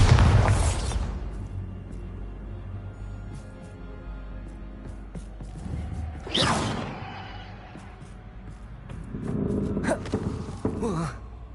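Bombarda spell blasts in Hogwarts Legacy, a heavy boom at the start followed by two more whooshing explosive bursts spaced several seconds apart, loud and close amid a busy game soundscape.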